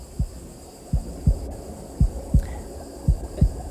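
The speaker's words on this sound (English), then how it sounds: "it really just features like a heartbeat and a lot of the sounds that you might hear if you're in the womb" Muffled heartbeat as heard from inside the womb, a steady run of soft, deep low thumps, some paired, over a faint continuous hum, with no voices.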